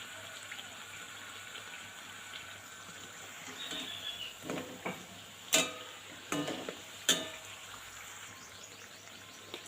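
Nimki pastries frying in a shallow pan of oil, turned over until reddish-golden: a steady soft sizzling hiss with a few sharper crackles and clinks midway, fairly quiet throughout.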